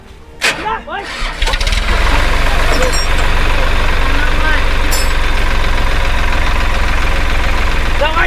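A tractor engine fires up and settles into a steady, loud idle that runs nonstop, with people talking over the engine throughout.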